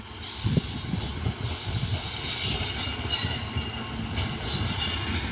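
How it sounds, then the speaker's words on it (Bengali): Teesta Torsa Express passenger train with ICF coaches arriving at New Cooch Behar station, a steady loud rumble of rolling wheels and carriages with a constant hiss and faint clatter, close by and continuous throughout. "এই যে ট্রেন কিন্তু অলরেডি চলে এসেছে"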